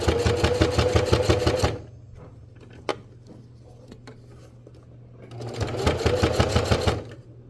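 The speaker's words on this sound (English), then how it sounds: "I'm going to run them over and then back stitch on top of them just to make sure they're locked in and secured." Domestic sewing machine stitching fabric for a simple first project, with a steady rapid needle chatter at the start, a pause with faint handling clicks, then a second burst of stitching going back over the seam.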